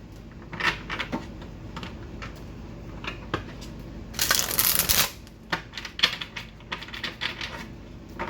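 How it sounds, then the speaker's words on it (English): Tarot cards shuffled by hand at a table: soft papery riffles and taps scattered through, building to a denser, louder flurry of rapid card flicks midway, then lighter intermittent shuffling, close to the mic. "Get a good shuffle."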